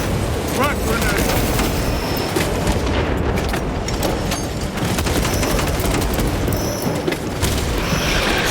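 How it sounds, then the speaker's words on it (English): A frag grenade blast booms amid constant gunfire in the video game Space Marine 2, with loud, dense combat noise continuing for the whole stretch. "Frag grenade!"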